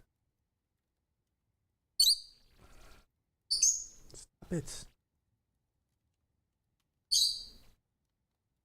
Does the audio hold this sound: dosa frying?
no